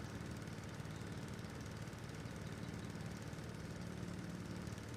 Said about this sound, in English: Engine even revs up when it's pumping fuel.